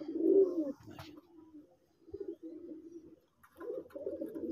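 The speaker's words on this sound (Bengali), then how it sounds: "মান সম্পন্ন একজোড়া কবুতর।" Soft, low pigeon coos close by, a few separate bouts with quiet pauses between them.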